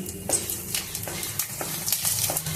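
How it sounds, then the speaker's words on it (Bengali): Bay leaves and dried red chillies frying in hot oil, a steady close sizzle with light crackles and a few soft stirring taps, with no talk. "2টো তেজপাতা দিয়ে দিলাম একটা শুকনো লঙ্কা, 2টো শুকনো লঙ্কা আমি ফাটিয়ে দিয়েছি।"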